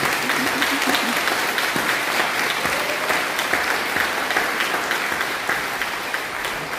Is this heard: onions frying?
no